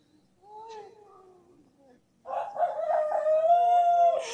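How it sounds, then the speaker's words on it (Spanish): A rooster crows twice, first a fainter drawn-out call and then a louder, longer crow that rises and holds, heard close with little background noise. "¿Un gallo?"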